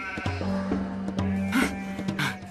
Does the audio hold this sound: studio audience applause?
no